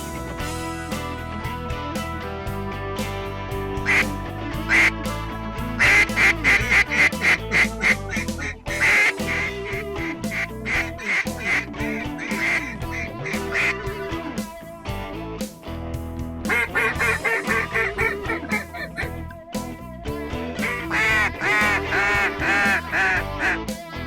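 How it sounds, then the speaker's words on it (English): Many ducks quack loudly and continuously, in repeated bursts and rising choruses, around a duck hunting pit in a flooded Kansas cornfield. No one speaks. "Morgan, are you ready to shoot some ducks on the Flyway Highway?"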